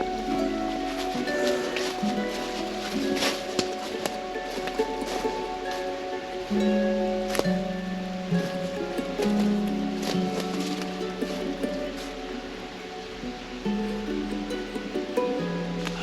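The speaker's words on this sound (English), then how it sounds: "There's the waterfall right there." A waterfall beside a cave or overhang makes a continuous broadband rush that stays fairly even throughout, with some tonal ambient layers and no clear speech.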